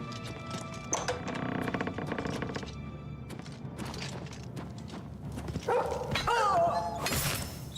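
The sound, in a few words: dog barking in video game Oblivion Remastered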